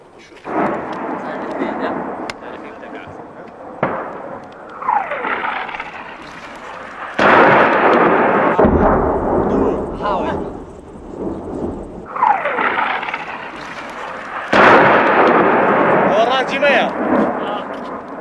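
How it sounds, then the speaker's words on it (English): Iranian artillery shelling near a mountainside: several heavy booming blasts roll and echo at intervals, some deep and prolonged, amid windy outdoor noise and occasional distant voices. "A new round of Iranian shelling has begun."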